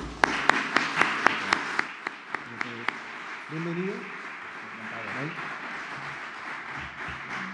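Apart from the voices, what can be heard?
applause welcoming chess player Jaime Santos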